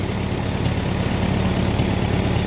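Close by, a carbureted tractor engine sits idling, its loud, smooth low throb pulsing in a steady, unbroken rhythm with no talk over it.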